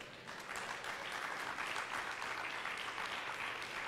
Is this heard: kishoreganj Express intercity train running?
no